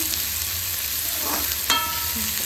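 Onions frying in a pan for baingan bharta, with a steady sizzle throughout and a few brief scrapes of stirring, ending in one sharper clatter near the end; no voices.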